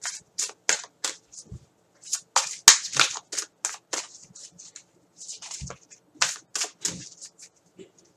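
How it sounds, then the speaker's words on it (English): Large Gods and Titans oracle cards being shuffled by hand, giving close, crisp riffling and slapping bursts in irregular clusters with short pauses. "These cards are big, so they're so hard to shuffle."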